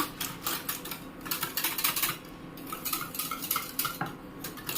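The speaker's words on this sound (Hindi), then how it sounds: "इसको छाछ की तरह हम इसे मिक्स कर लेते हैं अच्छे से इस तरह से" Barley rabdi is mixed with buttermilk, heard as a rapid, busy clatter of a spoon or whisk knocking and scraping around a metal vessel in continuous close bursts, with no talk.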